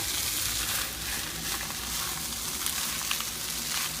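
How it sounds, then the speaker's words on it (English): Vegetarian fried rice with garlic sizzles and crackles steadily in a hot pan as it is stirred and clumps are broken up, with faint scraping strokes under the continuous frying hiss. "Now the rice is in. What we have to do is try to break up a big clump of the rice and mix everything in it."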